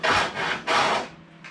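Hand tool trimming the edge of a wooden skiff panel, three close rasping strokes in quick succession followed by a shorter, fainter one.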